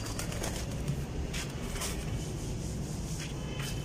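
Soft, low pigeon coos repeat steadily over a constant background murmur, with no voices present.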